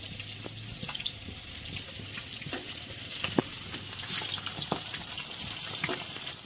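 Rohu fish pieces shallow-frying lightly in oil in a pan, giving a steady close sizzle with scattered crackles and spits throughout, plus faint clinks and a watery background hiss.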